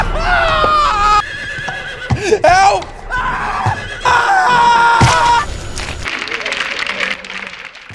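A horse neighs and whinnies loudly in several bursts while a man screams, with hooves and a chaotic, frantic scene around them.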